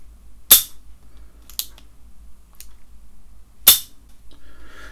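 Two sharp mechanical clicks from a RogueWorx KC-02 trigger mechanism, loud and close, spaced about three seconds apart with a few fainter ticks between them against a quiet background.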